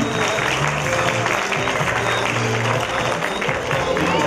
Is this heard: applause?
yes